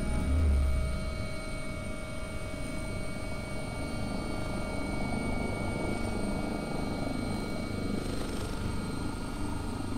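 Simulated AW-139 helicopter rotor at 100% RPM in X-Plane 11, a steady thrumming engine and rotor drone with a constant whine on top, moderately loud and continuous, with no voices.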